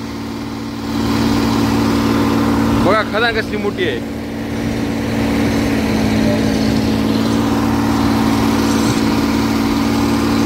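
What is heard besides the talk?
heavy dump truck engines pulling out of quarry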